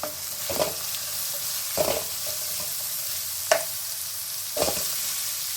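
Carrots, beans, green peas and capsicum fry in a pan for shavige bath, with a steady sizzle and a spatula stirring through them in four or five spaced strokes, with no talking.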